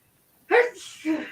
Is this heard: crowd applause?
no